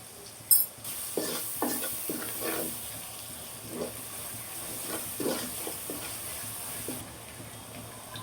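Greens with dried fish and spices fry in a pan, with a faint, steady sizzle broken by several soft scraping stirs and a sharp clatter near the start; no one speaks.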